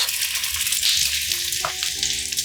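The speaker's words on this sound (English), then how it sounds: "To keep it on to a low heat and let the egg gently cook till it's nice and golden." Egg-soaked bread frying in a pan over low heat for a chicken and cheese sandwich, giving a steady, close sizzle and hiss with a few soft crackles and no voices.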